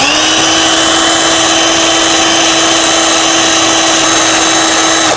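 A mini drill spins a metal shaft while it is sanded with 2000-grit sandpaper, giving a loud, steady high-pitched whine that holds constant throughout.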